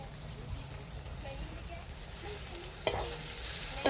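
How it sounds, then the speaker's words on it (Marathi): Onion, garlic and tomato frying together in a pan for a spiced okra dish, a steady close sizzle with occasional stirring scrapes and a sharper clatter near the end, background voices faintly present. "कांदा लसूण छान भाजलाय, त्याच्यातच टाकूया टमाटर बी छान असं भाजून घ्यायचं"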